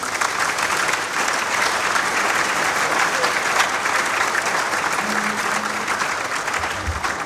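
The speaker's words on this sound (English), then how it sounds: "another round of applause to those two ladies" Sustained audience applause at a speaker series event, dense clapping from a large crowd filling the room at steady loudness throughout.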